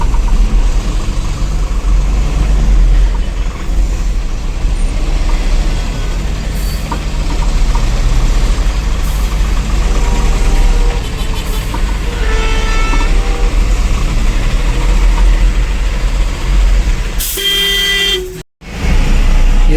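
Heavy road traffic jammed by roadworks: engines idle and rumble steadily while car and truck horns honk in scattered short toots and longer blasts, loud and close throughout, with a sudden brief dropout near the end.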